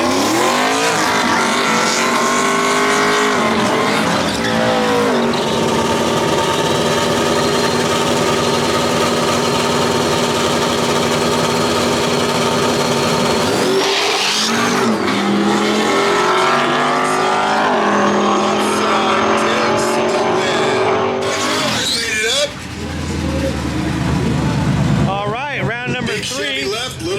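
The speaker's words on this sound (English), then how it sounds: "Charlie and Plain Jane right here, racing this crew cab." Racing trucks including a turbo S10 and a crew cab launching in a drag race, engines roaring loud and sustained with rising revs and shifting pitch, a brief pause, then more engine noise, with an announcer talking over the whole run.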